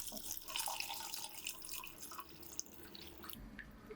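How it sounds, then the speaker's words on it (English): Three cups of water pour into a pot with chicken broth for chicken noodle and vegetable soup, a steady hissing, splashing stream that fades slightly near the end. "so I will add 3 cups of water"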